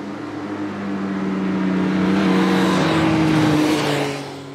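Three-cylinder sport-touring motorcycle engine heard while riding, a steady droning hum with layered tones that swells gradually louder through the middle and eases slightly at the end, with wind rush behind it.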